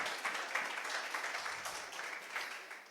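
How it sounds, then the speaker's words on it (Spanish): Applause from a church congregation at an Advent service as the fourth Advent candle is lit, a steady, moderately distant wash of clapping hands lasting throughout and fading slightly at the end. "Un aplauso, ¿no? Para la cuarta vela."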